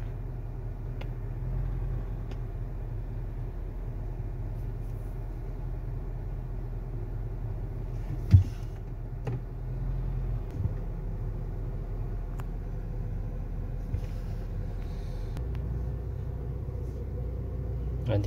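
A 2022 Ford Territory gives off a low, steady rumbling vibration from inside the cabin, heard near and continuous, with a few faint knocks and rattles breaking through now and then.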